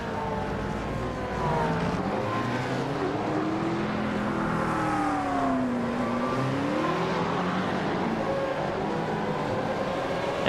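A McLaren safety car in iRacing drives off at the Winton circuit during a V8 race. Its engine tone rises and falls continuously as the car pulls away and accelerates, with steady droning car noise throughout.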